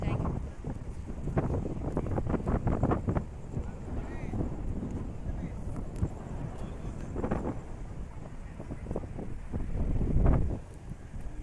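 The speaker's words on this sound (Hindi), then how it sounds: "यहाँ बहुत ज़्यादा हवा चल रही है, बहुत ज़्यादा ठंडी ठंडी हवा चल रही है" Strong cold wind buffets the microphone on a beach at Puri, Odisha, a steady roaring rumble through the whole clip that swells near the end, with people talking over it.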